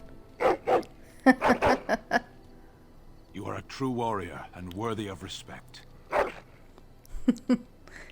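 A dog in the video game Dragon Age: Origins gives several short, sharp barks and yips near the start and end, with someone talking in the middle of the clip.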